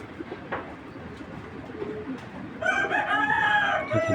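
A male racer pigeon coos near the end, a clear burst of low, throaty, rolling calls following quieter background rustle, with no talk.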